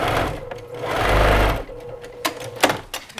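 Sewing machine stitching through fabric in a fast, steady whir that peaks midway, then gives way to quieter handling clicks and a few sharp knocks near the end, with no talking.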